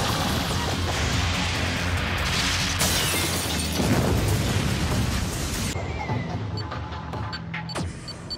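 A sustained, loud blast of crackling, roaring energy from the Bakugan Helios ability Chaos Hyper Cannon tears through the space, rumbling for seconds before it thins and fades out.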